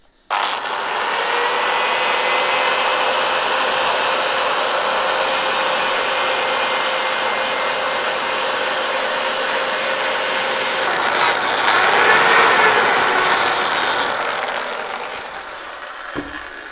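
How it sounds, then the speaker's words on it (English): A drill spinning a buffing mop whirs continuously for a long stretch, a loud steady spinning with a buffing rub against a walnut bowl that swells briefly near the end. "When I use the buffer mop on a drill like that"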